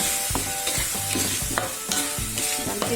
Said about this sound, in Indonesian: Kita masukkan bumbu jadinya ya.